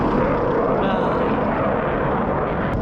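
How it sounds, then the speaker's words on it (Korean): Fighter jet flying overhead at a used-car lot, a broad steady roar of jet noise that fills the whole stretch at constant loudness. "또 전투기가 날아다녀요."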